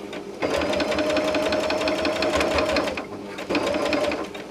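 A sewing machine stitches the seam of a shoulder bag, running steadily at close range with a brief pause before starting again while a person talks over it.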